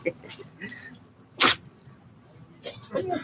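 A single short, sharp sneeze-like burst from a dog stands out midway, with quiet talking and soft movement around it.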